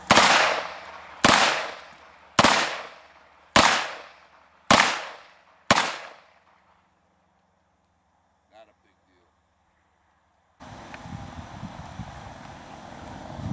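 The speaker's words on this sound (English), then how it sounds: "Two big bore revolvers, shooting downrange." Six loud, evenly spaced booms from two big-bore revolvers fired together downrange outdoors, each shot followed by a long echoing decay, then a pause and a stretch of wind noise.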